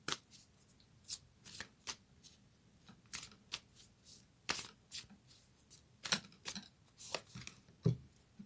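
A Moonology oracle card deck is shuffled up close, in quick crisp riffling bursts separated by short pauses, faint and intimate against a quiet room.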